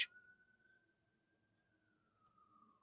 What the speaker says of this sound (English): I hear a siren. Ooh, yeah, a whole bunch of fire trucks just ran down our street.